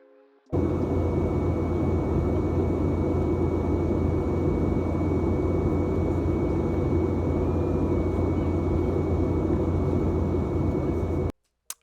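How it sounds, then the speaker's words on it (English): A small airplane's engine drones steadily at an airport, a loud continuous roar that holds evenly throughout and cuts off abruptly at the end. "Is this not the cutest plane that you've ever seen?"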